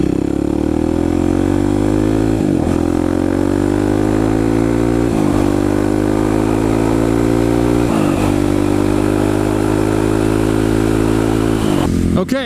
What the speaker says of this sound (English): Kawasaki, 2009 Kawasaki KLX 250 SF. This is the factory Supermoto for all you bike shoppers out there.